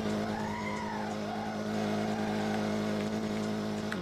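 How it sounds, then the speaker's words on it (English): A drift car slides with a loud, sustained tire squeal that wavers in pitch over a steady engine drone, close and continuous, with no talking. "look at this thing slide now. Let's see how she drifts."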